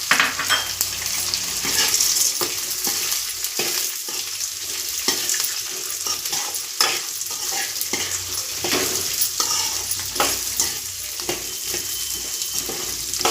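Peanuts and roasted gram dal fry in a pan, giving a steady close sizzle broken by a run of crisp stirring scrapes and rattles, with no talk.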